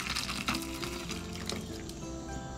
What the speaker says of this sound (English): Crack open your tin and give it a good pour.